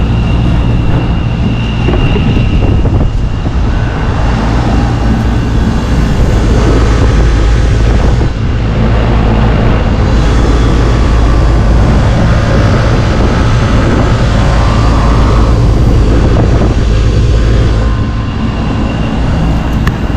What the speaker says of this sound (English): Blower motor's running.